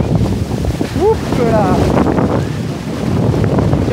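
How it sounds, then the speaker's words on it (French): Ocean waves washing over sand on a windy Hawaiian beach, a loud steady roar of surf mixed with heavy wind buffeting the microphone, while a person briefly speaks and exclaims nearby. "Il y a beaucoup de vagues."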